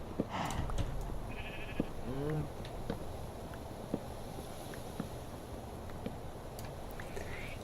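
Sheep bleat in Minecraft, a couple of short wavering bleats set against a steady hiss of game ambience, with soft clicks scattered throughout.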